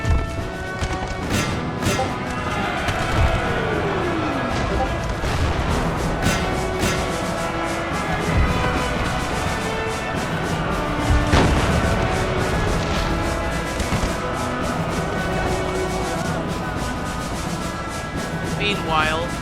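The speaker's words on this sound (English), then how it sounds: "While Russia volley fires and cannon fire upon the enemy" Musket volleys and cannon fire from Russian forces in a Great Northern War battle game, heavy booms and crackling shots scattered over a continuous battlefield roar while someone narrates throughout.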